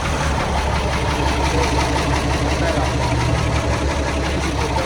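The diesel engine of an old Mercedes water truck idles close by, a steady rumbling, constant low throb with a broad noisy hiss over it and no break.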